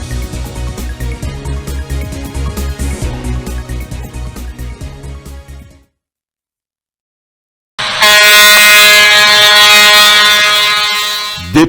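A loud siren sounds in harsh harmonic blasts, pulsing rapidly for about six seconds, then cutting to near silence before returning as one long, steady, piercing tone.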